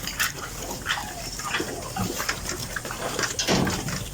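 Piglets in a farrowing pen squeal and grunt continuously, a busy overlapping chorus of close high-pitched cries with no talking.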